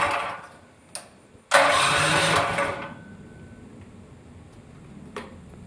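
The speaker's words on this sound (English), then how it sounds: "So anyways, this is how you pretty much start the go-kart." A go-kart engine is cranked by its electric starter, catches with a sudden loud roar, revs for about a second, then drops to a steady, quieter running drone, close by.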